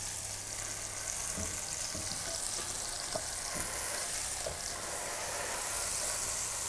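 Mushrooms fry in a pan while being pressed down, a continuous soft crackling sizzle with occasional small taps and scrapes, close and fairly quiet with no talking.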